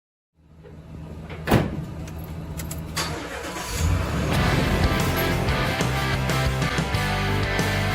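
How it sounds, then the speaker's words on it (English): A truck engine cranks and catches with a sharp click and a door thud, then settles into a steady, close, rumbling run with no voices. "I've got just the truck to take us to the airport to go to the Dakotas."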